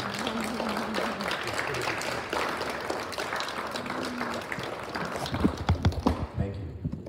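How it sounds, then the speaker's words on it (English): Students at a sixth grade awards ceremony applaud their parents, a steady crowd clapping that fills the room, with chatter and thumps mixed in before it breaks into a few louder scattered claps and fades away. "Please look at your parents and give them a round of applause for all of their hard work this year."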